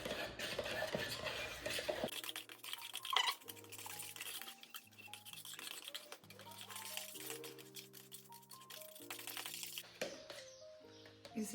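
Small batch of cement mixed for a pathway mold, a close gritty stirring and patter with occasional clinks, continuing under background music.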